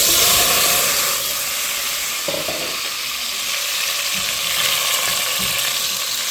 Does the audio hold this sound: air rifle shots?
no